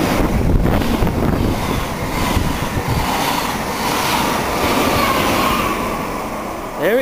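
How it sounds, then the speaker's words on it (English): A Class 172 diesel train rolls through Needham Market station, heading north toward Ipswich. It makes a loud, sustained rumble with heavy wind buffeting on the microphone close by, and a voice is faintly present. "Got our first train of the day now. About to pass through Needham Market."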